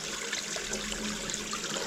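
Steady rushing and trickling of water at a snowy micro hydro intake screen in winter, a constant close wash of flow with no voices.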